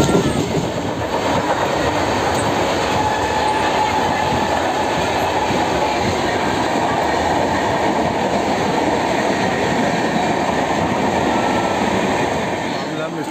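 A local train departing Mambalam station in Chennai rumbles steadily nearby with rolling rail noise and faint clatter, continuous and loud throughout, a few voices murmuring in the background.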